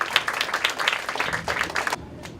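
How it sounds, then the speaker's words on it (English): Audience applause for students and their teacher at a school cultural festival, a dense run of fairly steady claps that carries on for about two seconds before dropping off abruptly, leaving a faint tail. "Let's give them a big round of applause to the students and a big round of applause to the teacher"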